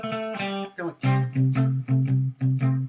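Plucked guitar notes sounding sixth intervals, a few single notes followed by a repeated pair strummed in an even rhythm, clear and close.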